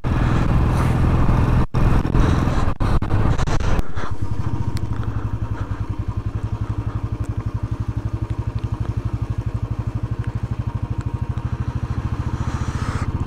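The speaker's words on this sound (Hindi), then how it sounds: "बहुत ही आराम से हम अपनी बाइक को चलाते हुए यहाँ पे" Royal Enfield motorcycle ridden on an icy mountain road in winter Spiti, its single-cylinder engine thumping in a steady, even beat close by, with a rougher, louder stretch at first before settling into a smooth, regular rhythm.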